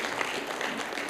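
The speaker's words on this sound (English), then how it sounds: "your spouses especially need a round of applause" Brief, fairly faint burst of audience applause in a conference hall, a dense patter of many hands clapping without pause.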